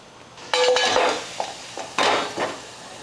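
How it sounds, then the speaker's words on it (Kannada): A metal cooking pot is set down on a kitchen surface with a ringing clang, followed by a few lighter clinks and knocks as it settles and is handled, close and clear. "ಈಗ ನಾನು ಒಂದು ಪಾತ್ರೆ ಇಟ್ಕೊತೀನಿ ರೀ."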